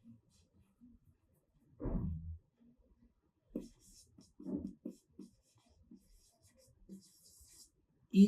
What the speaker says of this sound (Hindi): कुछ एग्जाम्पल मैं लिखता हूँ आप लोग को